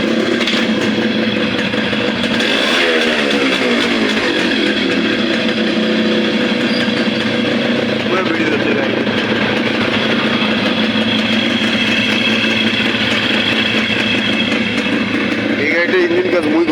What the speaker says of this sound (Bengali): চলো গাড়িটা স্টার্ট করে দেখাতাম।